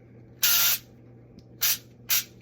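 Olive oil is spritzed onto a foil-covered baking pan in three short hissing sprays, a longer burst followed by two quick ones, close and clear over a quiet background.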